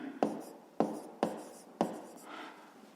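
Pen strokes writing out a money sum for a fifth-grade math exercise: four sharp, evenly spaced taps and scratches on paper, close and clear with no talking.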